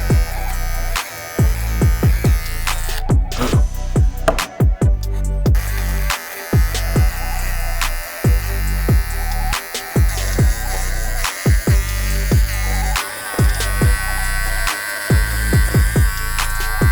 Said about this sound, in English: We're gonna use some hair clippers to shave off the material.